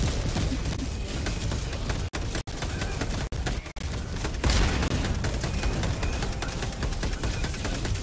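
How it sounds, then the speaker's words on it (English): Orbital strike explosions and dense gunfire from the video game Helldivers 2, a loud continuous barrage of rapid shots and booming blasts with a few brief gaps and a heavy burst midway. "I think I just blew up my own Gatling with my orbital."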